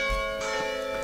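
Church bells ringing with bright, sustained metallic tones that overlap and hum, heard close and steady over a brief stretch.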